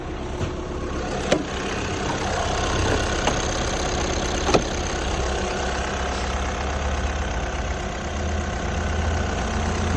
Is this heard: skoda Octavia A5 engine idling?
yes